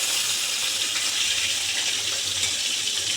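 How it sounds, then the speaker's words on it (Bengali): Pomfret and small pomfret-like fish frying in oil in a kadai, a steady, loud, hissing sizzle that holds without a break throughout, with no talking over it. "এবার কড়াই তেল দিয়ে পমফ্রেট মাছ ভেজে নেব"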